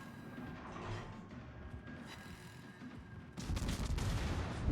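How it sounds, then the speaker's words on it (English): The cruiser Perth fires HE shells in World of Warships, a faint rolling volley of distant gun blasts that suddenly swells into a louder, denser barrage in the final second and a half. "I fire more HE at him"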